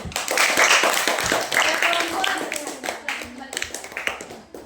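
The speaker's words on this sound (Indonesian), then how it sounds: "Tepuk tangan." Classroom hand clapping after a student group finishes its presentation, a burst of many hands that thins into scattered claps, with voices talking over it.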